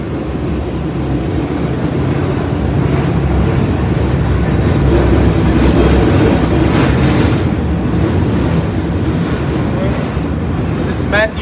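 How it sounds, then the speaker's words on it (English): A train passes nearby for the whole stretch, with a loud, steady rumble and clatter of railcars and a brief high squeal near the end. Voices can be heard faintly over the noise. "You want to wait for the train to pass?"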